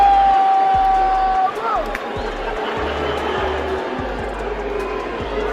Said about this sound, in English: Those of you who are booing.